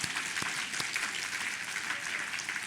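Congregation applauding during an installation ceremony at a theological university in Korea, steady, moderately distant clapping from a crowd throughout.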